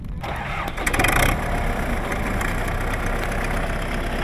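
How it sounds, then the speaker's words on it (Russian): Tractor engines fire up in a field near the village of Voikovo during tree-planting work, a brief starting clatter rising into a steady, close, loud idling rumble that continues without pause. "Гул мотора и машины завелись."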